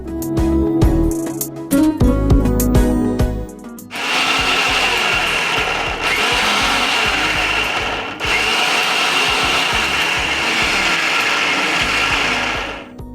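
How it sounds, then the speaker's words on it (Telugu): A mixer grinder (mixie) whirs loudly and steadily as it grinds onion chutney ingredients with garlic cloves, coriander and turmeric, starting after a few seconds of clattering and running close up in sustained bursts with brief dips. "ఇది మిక్సీ పట్టుకోవాలని సార్"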